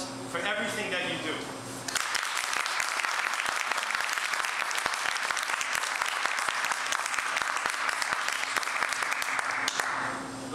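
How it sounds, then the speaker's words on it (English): Sustained audience applause at an honoring ceremony for a police chief and his wife, starting after a brief spoken introduction and continuing steadily and loudly for about eight seconds before tapering off. "I'd like to give a big round of applause for everything that you do."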